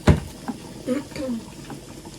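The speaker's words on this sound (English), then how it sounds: "And then you can stir together." A spoon stirs Nigerian ayamase designer stew in a pot, giving a few soft scraping and sloshing strokes close by, with faint sizzling underneath.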